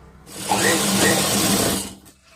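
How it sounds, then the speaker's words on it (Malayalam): Sewing machine stitching a V-neck uniform coat, one loud, close burst of fast whirring needle action lasting under two seconds, starting and stopping abruptly. "അതുപോലെ ഇവിടെയും തയ്ക്കുക"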